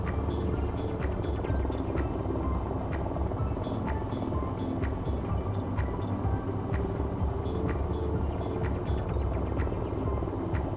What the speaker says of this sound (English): this is the second time I've flown a helicopter